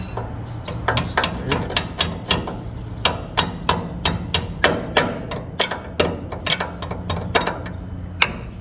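A hammer strikes again and again in quick, sharp, fairly regular blows, about two or three per second, close by over a faint background hum.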